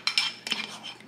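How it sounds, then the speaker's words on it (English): A utensil clinks and scrapes against a bowl while Cap'n Crunch pancake batter is stirred, several quick sharp metallic taps close up. "I'm mixing this shit together."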